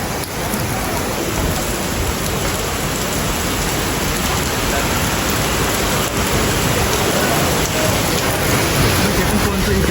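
Heavy rain pours down on a Guangzhou street during a sudden downpour with thunder, a dense, loud, unbroken hiss of rain on surfaces filling the whole stretch.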